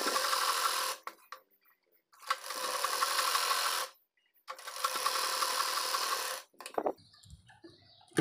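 An electric sewing machine stitches dhoti salwar fabric in three bursts of rapid, whirring needle action, each a few seconds long, separated by short silent pauses and ending in a faint clatter.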